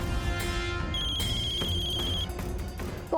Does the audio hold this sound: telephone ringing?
yes